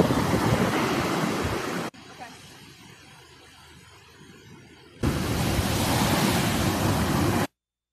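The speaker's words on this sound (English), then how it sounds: "we see some waves on a beach, and we hear sounds of the water." Ocean waves breaking on Coronado Beach in San Diego, California, a loud, steady wash of surf that drops to a quieter stretch midway and then returns at full strength, with no talking.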